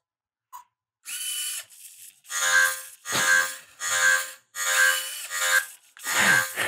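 A small programmable toy robot's servo motors whir as it waves its arm, sounding as roughly six short, close, fairly loud mechanical bursts separated by brief pauses, with no talking.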